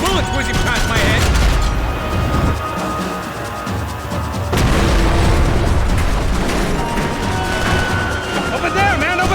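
Gunfire and explosions in a chaotic Max Payne 3 firefight, with bursts and booms running loud and dense across the whole stretch, under urgent talk.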